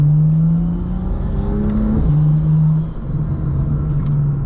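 A BMW 340i with a catted downpipe exhaust revs up, giving a loud, close engine drone whose pitch climbs, dips briefly around the midpoint, then rises and holds again, with no talking.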